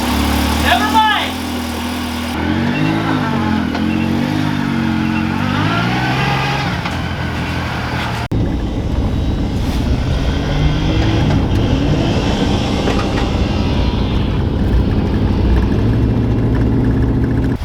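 Two brand-new Yamaha YXZ 1000R side-by-sides run in a foot of snow after a cold start, their engines droning and idling steadily and loudly throughout while people talk over them.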